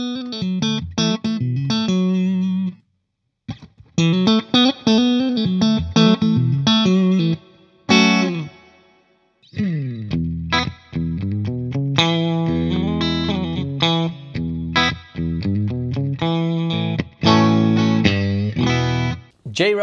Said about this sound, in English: So it's basically a clean boost and a reverb in one, which is nice if you want to use it for like lead playing.